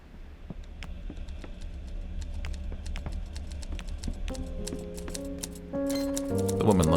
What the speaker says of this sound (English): I can hear the sound of footsteps and the clacking of typewriter keys